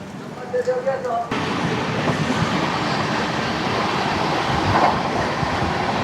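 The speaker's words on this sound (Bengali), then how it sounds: "তো ট্রেন এখন পারশনাথ স্টেশন ছাড়লো।" The 13152 Kolkata Express starts rolling out of Parasnath station with a loud, steady rumble and rattle of wagons close by, after a short moment of quieter background with a few tones.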